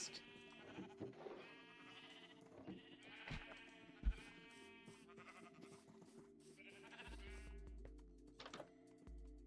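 Sheep in the Minecraft video game bleat several times in short, wavering cries spread through the stretch, heard over steady game background tones with no talking.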